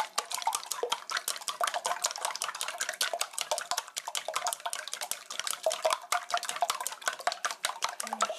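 Chopsticks beating eggs in a bowl for scrambled-egg spaghetti, a fast steady clatter of rapid clicking strokes against the bowl, close and continuous with no talk.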